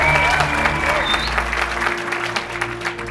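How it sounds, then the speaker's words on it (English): A studio audience applauds and cheers steadily, a dense wash of clapping with a few whoops, at a hot-wings interview show. "make another round of applause for yourselves"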